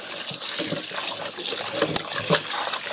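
Water poured into a pot of curried lamb stew, a steady close splashing and gurgling flow lasting a few seconds with no talk.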